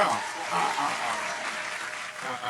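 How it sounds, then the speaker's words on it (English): A crowd claps in a steady wash of applause, with voices mixed in beneath the clapping. "Round of applause to Wack 100."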